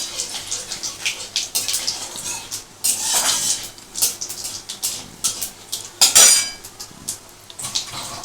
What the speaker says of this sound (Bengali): এটা একটু আমি ভালো করে নাড়াচাড়া করে নেব